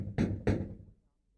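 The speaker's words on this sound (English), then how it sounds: "Someone knocks at the door." Two sharp knocks on a wooden door, close and distinct, followed by silence.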